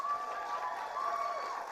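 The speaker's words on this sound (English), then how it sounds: "So a round of applause for Jo, please." Applause from an audience at a student union event, a steady moderate wash of clapping over the full short stretch, with no voices.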